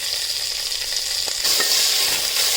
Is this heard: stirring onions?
yes